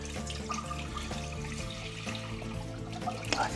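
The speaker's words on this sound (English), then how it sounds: "We put the water," One liter of water pours into a pot on a stove for Thai tom yum gai soup, a soft continuous splashing under steady tonal background sound.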